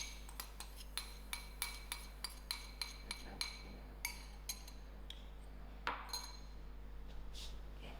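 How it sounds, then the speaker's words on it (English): A metal spoon clinks against a mixing bowl while bicarbonate soda is stirred into red velvet cupcake batter: a quick series of light, quiet taps and scrapes, near and alone. "I'm going to add in my teaspoon of bicarbonate soda. Let's mix this and drop it into the batter."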